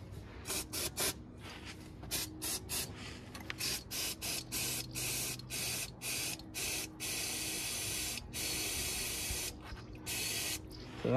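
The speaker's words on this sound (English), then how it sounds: "Now what I'll use is a bit of brake cleaner" Brake cleaner sprayed from an aerosol can onto parts of a Ford Focus ST TDCI during a full service, in a series of short hissing bursts and a few longer sustained blasts, close and loud with no talking.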